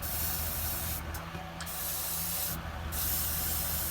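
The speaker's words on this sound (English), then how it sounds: "I'm going to use a circular motion with the airbrush" An airbrush spraying paint onto a miniature figure gives a steady close-up hiss with faint soft breaks, no talk.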